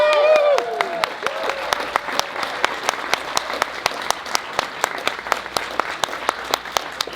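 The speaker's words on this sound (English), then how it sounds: "Let's give him a round of applause!" A crowd at a horror fan convention panel at Spooky Empire applauds, with distinct sharp claps standing out over a steady wash of clapping. A voice is briefly heard at the very start.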